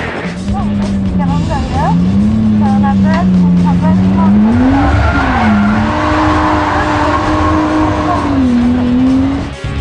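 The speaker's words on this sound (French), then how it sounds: "Dès la première courbe, Audrey nous offre un récital complet de figures en démontrant son habileté au volant" A car drifting on a Japanese track, its engine holding a loud wavering rev while tires squeal continuously through the slides, with someone talking over the noise.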